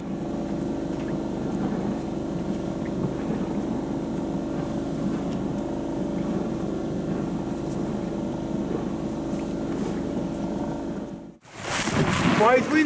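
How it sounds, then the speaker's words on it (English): Steady wind roars across an open microphone in a bay on the Ionian Sea, with broadband rushing noise and a low engine-like drone, broken by a brief gust burst near the end. "Quite windy here in the bay."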